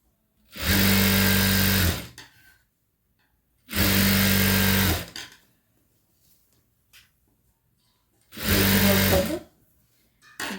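A sewing machine stitching a straight blouse side seam runs in three separate loud, steady bursts of about one and a half seconds each. Quiet pauses fall between the bursts.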